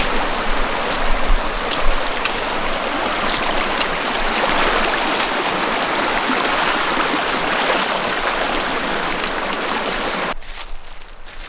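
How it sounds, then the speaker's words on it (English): Steady rushing water from a flowing stream at a trail water crossing on the Appalachian Trail, close and loud, continuing without pause before cutting off near the end. "Here's another water crossing."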